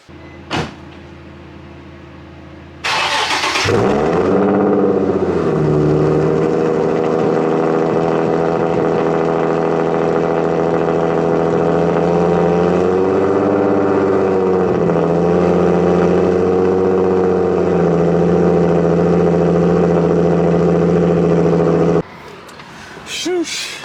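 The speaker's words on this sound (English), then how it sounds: "start up the car, let her warm up" After a brief thump, a Nissan G35 fitted with an ISR exhaust cranks and fires, its revs flaring high, then easing into a steady, loud idle that rises and settles again as it warms up before cutting off abruptly.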